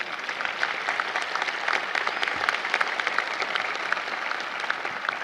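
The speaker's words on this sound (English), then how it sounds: "You go ahead and applaud for your family." Graduates at a National Louis University commencement applaud their families, a dense, steady wash of clapping from a large crowd that holds at an even level from start to finish without any talk over it.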